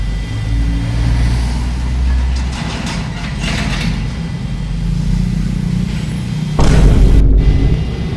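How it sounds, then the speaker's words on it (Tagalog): A motorcycle passes along a rough, pothole-damaged road, its engine rumble blending into steady loud traffic and wind noise, swelling near the end. "Pinadayang motor."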